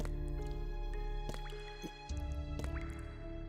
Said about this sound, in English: The crisp sound of vital fluid dripping a stark counterpoint to the deathly silence.